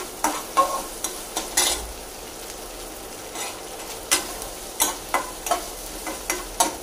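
Ginger garlic paste sautéing in oil, a soft continuous sizzle punctuated by regular spatula scrapes and taps against the pan, close and alone.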